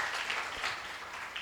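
Applause from the audience at a Jivan Vidya Parichay Shibir reception programme, a steady, fairly faint wash of many hands clapping with no voices.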